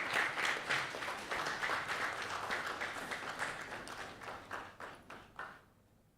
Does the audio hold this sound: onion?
no